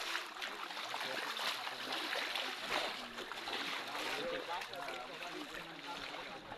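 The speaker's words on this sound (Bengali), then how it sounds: "এই ঝর্ণা তো ঝনঝন করতে আছে" A forest waterfall splashes and rushes continuously, a steady broad wash of falling water heard close by with no pauses.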